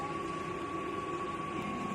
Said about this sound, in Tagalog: Bali, ito po ang aming sublimation machine.